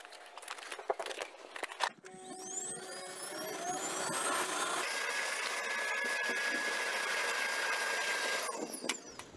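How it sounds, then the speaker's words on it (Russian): A vacuum cleaner starts up after a few knocks and runs loudly, sucking moisture from a carpet, with a steady high whine that wavers slightly, then cuts off near the end. "Включаем наш пылесос."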